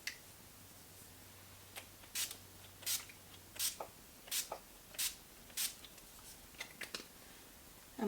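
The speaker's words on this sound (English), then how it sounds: "one last thing I forgot to do was put on my setting spray" A series of short, hissing bursts of makeup setting spray, about a dozen, spaced irregularly in a quiet room, some quick double puffs near the end.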